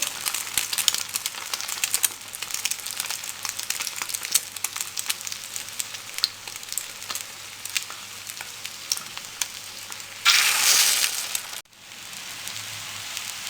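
Beef shami kababs frying on a low flame give a steady crackling sizzle throughout, with a louder hissing burst near the end before settling back to a gentle fry.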